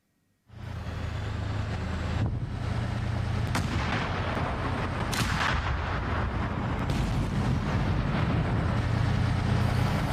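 A heavy tank gun blast booms out, followed by sustained rumbling, low mechanical noise and further sharp reports at a distance.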